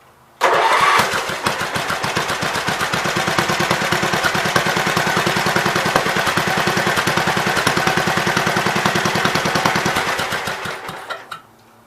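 A 526 tractor engine fires after a shot of carb cleaner, bursting into a loud, rapid, steady chugging run that holds for about ten seconds before cutting out.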